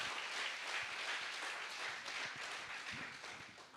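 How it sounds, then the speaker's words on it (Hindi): Sustained audience applause fills a hall to welcome lyricist Prasoon Joshi, a dense, steady wash of many hands clapping that tapers slightly toward the end. "ताली बजाकर स्वागत करें हम सब।"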